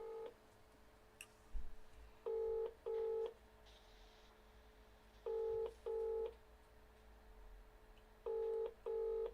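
During a test call, a telephone line gives a ringback tone in paired double-ring bursts repeating three times with gaps, faint and steady over low line hiss.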